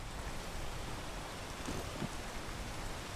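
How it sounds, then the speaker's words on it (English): Rain falls in the climbing game PEAK as a steady, even hiss of dense drops, soft and unbroken throughout, with no voices over it. "Of course it's gonna rain right now."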